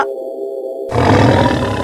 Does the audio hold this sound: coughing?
no